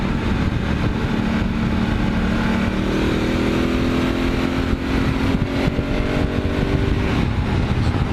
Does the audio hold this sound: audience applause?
no